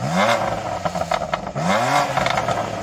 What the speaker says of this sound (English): So I'm going to rev up this M2.